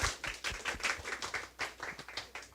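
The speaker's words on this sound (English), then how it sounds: "So a round of applause for Amanda," An audience at an international conference on university social responsibility and sustainable development claps for a presenter named Amanda. Steady, moderately loud applause from many hands fills the whole stretch, with no talking over it.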